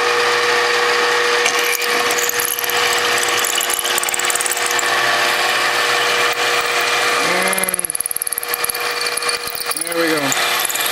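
A Micromark 7x14 mini lathe drills a pilot hole, giving a steady mechanical whir with a grinding, straining tone up close, while a person talks over it.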